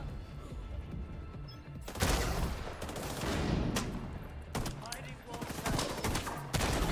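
Bursts of gunfire in The Division 2, a dense fusillade of shots rattling on and off over several seconds with loud broadband cracks and a faint voice in the background.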